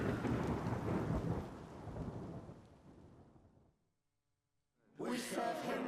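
Heavy rain pours with a deep rumble of thunder that fades out, then the downpour returns abruptly after a short silence; rain and thunder from the video game Mandragora.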